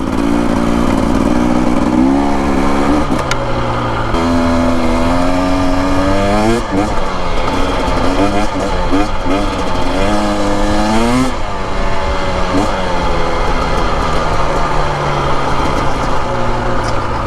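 A 2025 Husqvarna TE250 dirt motorcycle rides desert trails, its engine close and loud, rising and falling in revs with repeated throttle swells, as someone talks over it.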